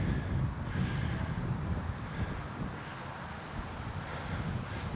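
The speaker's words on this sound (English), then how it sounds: "Let's hope the wind is not too noisy." Steady, loud wind buffeting a muffled outdoor microphone on a bright day during a calisthenics workout, a continuous rumbling roar with gentle swells and no talking.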